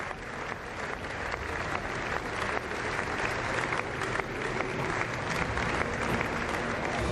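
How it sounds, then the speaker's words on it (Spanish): Sustained applause fills a large hall as the King and Queen enter the Spanish parliament's Salón de los Pasos Perdidos on Constitution Day 2008, a dense, steady clapping from a crowd that holds at an even level throughout. "Muy aplaudidos."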